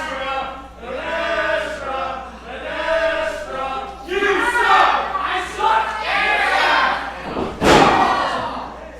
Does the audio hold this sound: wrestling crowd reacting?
yes